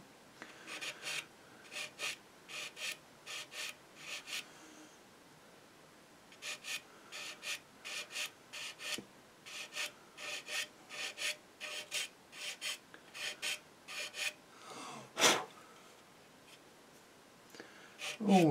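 Sandpaper rasps back and forth over the curved plastic surface of an Eduard Spitfire scale model, close up in rhythmic bursts of short strokes separated by brief pauses, with a sharper scrape near the end.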